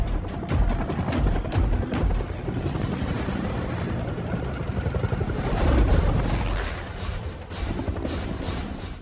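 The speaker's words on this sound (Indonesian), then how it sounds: "Kemudian terlihat helikopter dan dengan cepat Danny menembaknya" A helicopter's rotor chop and engine roar fill the air continuously, loud and close, with occasional thumps and wind buffeting.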